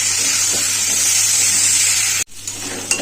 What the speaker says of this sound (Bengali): নুন হলুদ দিয়ে আলুটাকে পেঁয়াজটাকে ভালো করে ভেজে নেব